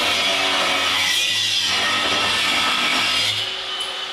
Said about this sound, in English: These little bandsaw do me a treat now, a little horizontal one